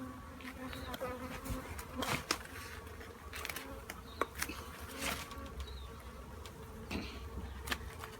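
Bees pour out of an opened beehive during a winter hive check, a dense, steady buzzing swarm close by with individual bees droning past.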